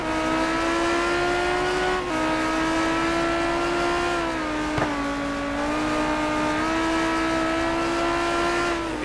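A Lamborghini race car in a racing simulator at the Aldo Scribante circuit gives a loud, continuous engine drone alone, with pitch rising and dropping through gear changes and braking.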